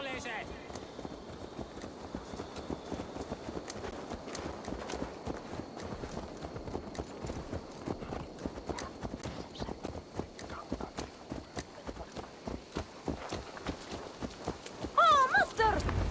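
Horse hooves clip-clop in Assassin's Creed Valhalla, a quick, repeated trotting beat on hard ground that runs steadily under male speech, with a brief whinny-like sound near the end.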